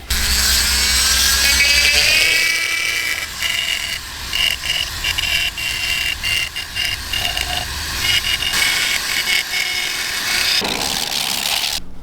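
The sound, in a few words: sanding a mahogany bowl on a lathe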